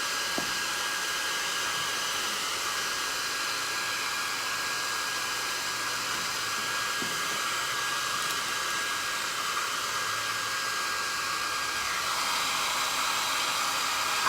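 A hair dryer blows steadily to dry paint on a decorative piece, a constant close whooshing roar with a faint whine that holds unbroken throughout.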